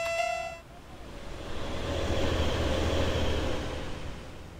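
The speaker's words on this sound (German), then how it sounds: "Lassen wir den Zug an uns vorbeifahren." A BWEGT class BR 612 diesel train on the Maintalbahn in Train Sim World 5 passes by after a brief horn-like toot, its steady low rumble and rail noise building and holding for several seconds before easing slightly.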